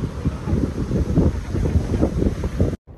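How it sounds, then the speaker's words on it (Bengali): Wind blows hard at the seashore in Puri, a close, continuous gusty rumble against the microphone that cuts off abruptly at the end. "হাওয়াটা ভালো দিচ্ছে"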